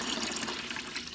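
Water poured into a Euhomy countertop nugget ice maker, a steady hissing, splashing stream held close and soft for about a second, with no talking.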